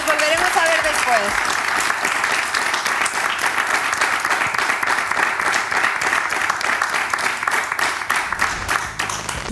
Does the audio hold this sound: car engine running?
no